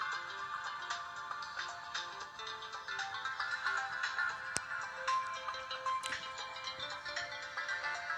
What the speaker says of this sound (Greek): Ωραίος δυνατός ήχος για τόσο παλιό κινητό.